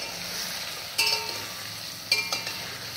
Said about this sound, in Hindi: ऐसे में मैं प्याज डाल दिया, और प्याज को भी ऐसे हिलाते हुए भूनना।